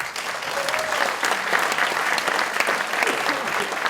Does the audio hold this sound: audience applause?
yes